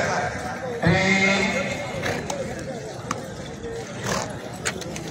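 Horses running in a race, with hoofbeats and a whinny rising over a busy outdoor crowd while someone talks loudly throughout.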